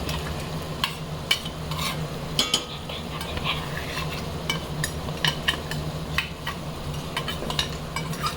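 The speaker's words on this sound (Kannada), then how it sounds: "ಇವಾಗ ಫ್ರೈ ಮಾಡ್ಕೋಬೇಕು." Food frying in a pan, a steady close sizzle broken by frequent light clinks and scrapes of a spoon stirring against the pan, with no voices.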